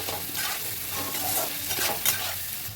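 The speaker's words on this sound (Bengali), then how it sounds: "প্রথমে আমি পেঁয়াজটা দিয়ে দিলাম, সবই একবারে দিয়ে দিচ্ছি। ভালো করে একটু মিশিয়ে নেব।" Capsicum, onion and tomato stirred together in a pan, a close steady sizzle broken by repeated scraping strokes of a spatula.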